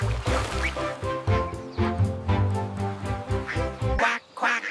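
Sung nursery rhyme about five little ducks, with repeated rhythmic quacks sung by a voice imitating ducks, set to a bouncy musical backing.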